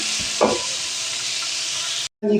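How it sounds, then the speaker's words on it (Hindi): Beef keema sizzles and fries in a pot with a steady hiss, while a spoon scrapes and stirs it in a few short strokes before a brief cut. "ये कीमा मैंने डाल दिया बर्तन के अंदर, वो भुन रहा है।"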